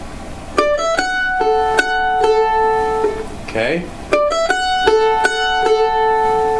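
Mandolin picking the opening phrase of the fiddle tune Liberty: two bright runs of distinct plucked notes in steady rhythm, close and clear, broken in the middle by a brief spoken word.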